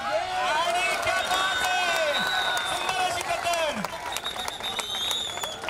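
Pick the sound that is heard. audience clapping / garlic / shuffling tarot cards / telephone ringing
audience clapping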